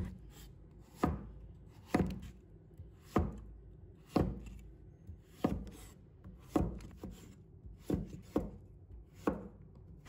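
Knife chopping a peeled, washed pumpkin into slices on a cutting board, about a dozen sharp, close, fairly even knocks against the wood, a couple landing in quick pairs.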